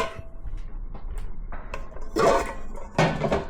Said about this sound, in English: So 2 stainless steel bowls, there we go